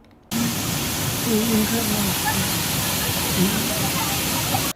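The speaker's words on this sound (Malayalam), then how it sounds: "കൊല്ലം ജില്ലയിലെ ഓലിയരക വെള്ളച്ചാട്ടം സഞ്ചാരികളുടെ മനം കവരുന്നു" Steady broadband rush of the Oliyarakku waterfall in Kollam district, Kerala, starting abruptly after a brief quiet moment and continuing evenly at close range, with a few faint voices blending into the roar.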